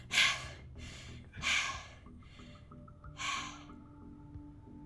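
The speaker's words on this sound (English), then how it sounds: "He must be excited as I can hear his heavy breathing even over the phone" Heavy breathing comes over the phone in three loud, close, breathy gasps, with soft background music beneath them.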